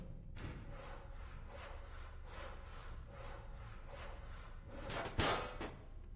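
A hacksaw in the video game VOTV cuts through scrap metal in steady rhythmic back-and-forth strokes, close and fairly quiet, ending in a sharper scrape near the finish.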